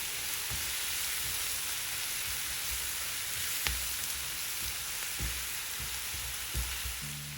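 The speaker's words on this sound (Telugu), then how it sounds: "అల్లము పచ్చిమిరపకాయతో ఒక 2 నిమిషాలు వేగనివ్వండి" Ginger and green chili paste fries in a pan for a banana fry dish, with a continuous quiet sizzle and a few soft stirring knocks, no voices.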